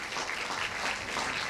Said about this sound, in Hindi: आइए हम इनके लिए ताली बजाएं।